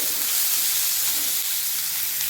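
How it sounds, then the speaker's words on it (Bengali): Chopped onions hit hot oil in a home kitchen, giving a loud, steady, close sizzling hiss that stays even and unbroken throughout, with no voices. "এরপর দেবো পেঁয়াজ কুচি ভালোভাবে ভেজে নেবো"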